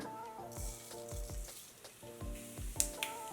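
Mustard seeds and cumin sizzle in hot oil in a pan, a steady crackling hiss running under rhythmic background music with regular percussive beats.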